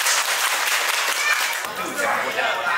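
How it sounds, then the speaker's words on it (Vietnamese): A crowd at a Vietnamese engagement ceremony breaks into dense, steady applause, with a voice speaking over the clapping. "quý vị dành một tràng pháo tay thật lớn để chào đón"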